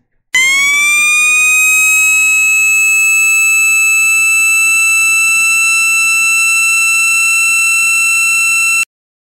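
A loud, steady electronic siren tone from a waterproof siren toy holds for several seconds with a falling sweep underneath, then cuts off abruptly.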